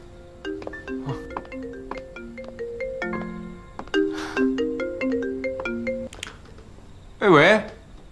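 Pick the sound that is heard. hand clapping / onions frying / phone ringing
phone ringing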